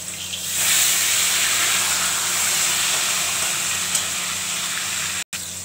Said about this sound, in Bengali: মাছটা নুন হলুদ মাখা হয়ে গেছে, ছেড়ে দিচ্ছি।